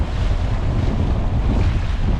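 Strong gusts over Lake Palestine, Texas, at 30-plus mph roar steadily against the microphone with a low, rumbling buffet and washing water, loud and continuous with no voices.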